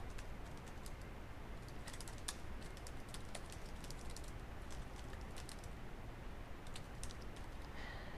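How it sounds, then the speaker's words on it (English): Rapid, steady typing on a computer keyboard, close and fairly quiet, continuing for several seconds over a constant background hiss. "So here I can type in my message."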